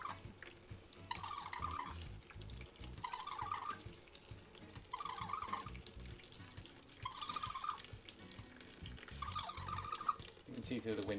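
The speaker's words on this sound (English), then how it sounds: "And we're just going to empty the bottle." Water pours out of a Lifesaver Liberty filter bottle as it is emptied, coming in repeated short splashing bursts under a steady background hiss.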